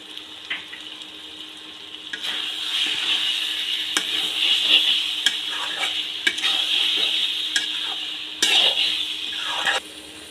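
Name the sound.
cabbage frying with chicken skin, stirred in pan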